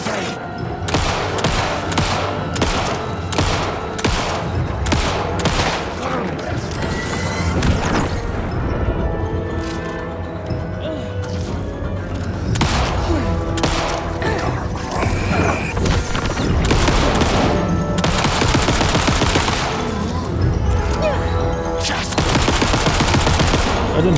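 Repeated gunfire from a gun in Alan Wake II's Night Springs DLC, a dense string of sharp shots and bursts with booms and crashing impacts, loud and continuous throughout with a brief lull near the middle.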